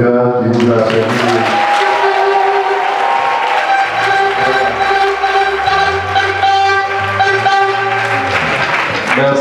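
A church congregation applauds the choir after a service, a sustained wash of clapping that runs throughout while music and singing carry on loudly over it.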